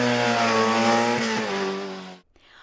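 A race car at the Time Attack Shymkent 2017 track event roars past loud and close, its engine note holding a strong steady pitch before cutting off abruptly near the end.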